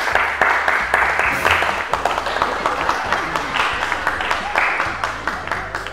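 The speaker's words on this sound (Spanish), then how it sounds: "vamos entonces a recibir con un fuerte aplauso al primer voluntario" A crowd at a Mother's Day comedy show claps to welcome a volunteer on stage, scattered sharp hand claps and applause running under a host's voice and background music.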